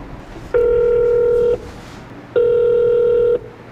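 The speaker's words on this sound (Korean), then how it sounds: "일단 전화를 해보도록 하겠습니다" Two long, steady electronic phone tones, each about a second, separated by a short pause, loud and clear over faint background hiss.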